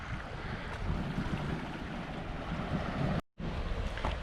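Waves and gusting wind on the beach at Illetas, a steady broadband wash of surf with wind buffeting the microphone, continuous throughout apart from one brief dropout near the end.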